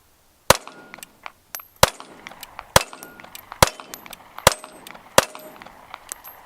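A Ruger LCP II pistol fires seven loud, sharp shots at a slow, fairly even pace, each with a short ringing tail and faint metallic clinks between.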